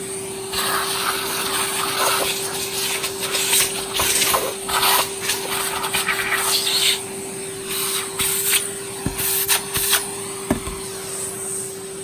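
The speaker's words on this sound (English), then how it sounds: "Let's vacuum it out." A vacuum cleaner runs continuously while cleaning out a Hoover Senior brushroll, a steady loud drone with a fixed whine, broken by irregular sucking and rattling bursts as debris is pulled in.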